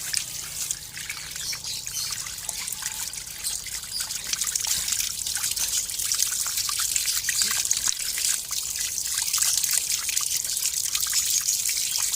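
Tap water runs steadily as hands are washed clean of garden soil and soap, a continuous close hiss and trickle lasting throughout.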